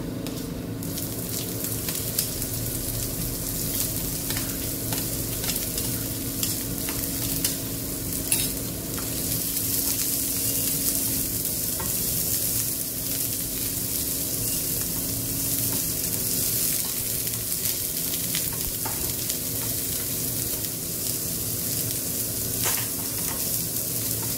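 Chopped onion fries and sizzles in a hot pan with masala, a steady close crackle punctuated by occasional stirring scrapes, no talking.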